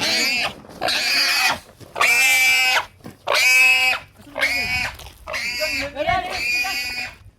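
A pig grunts and oinks in a run of loud, close bursts separated by short pauses, with a bit of background noise between calls.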